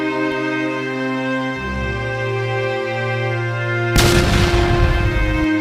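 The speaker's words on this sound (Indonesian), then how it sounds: "ada yang iseng deh ngebuang petasan di rumah kita" Firecrackers going off outside a house in an animated drama, a sudden burst of crackling explosions that cuts in over a sustained musical drone and rattles on to the end.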